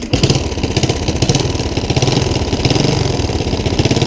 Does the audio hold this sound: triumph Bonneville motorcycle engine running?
yes